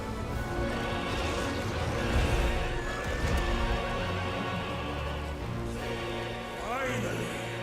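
Horse neighing in Final Fantasy XVI, a fairly quiet whinny rising over game music and hoof clatter, with a second shrill whinny toward the end.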